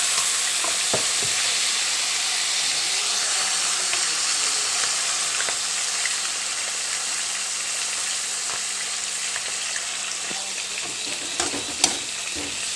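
Vegetables with tomato stir-frying in a pan with a splash of water, a steady close sizzle broken by occasional scrapes and stirring clatter, with no talking.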